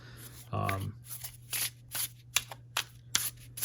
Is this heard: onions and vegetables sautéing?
no